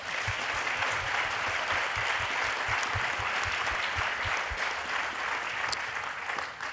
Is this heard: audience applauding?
yes